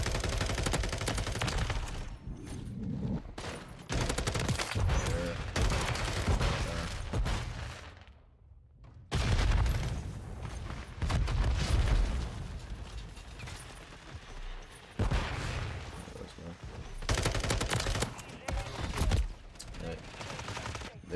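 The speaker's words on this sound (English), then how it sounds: "enjoy the video of the No Recoil Godly Submachine Gun in Modern Warfare 3 Season 4" Rapid submachine gun bursts from an FSS Hurricane in the Modern Warfare 3 video game, loud repeated fusillades with mechanical clicks and a short quiet gap between bursts of fire.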